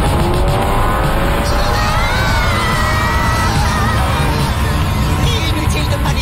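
Cartoon spaceship braking effect: a loud, continuous rushing roar with sliding, squealing tones that rise and fall over several seconds, like skidding tyres, with a thin whine early on and a voice heard faintly over it.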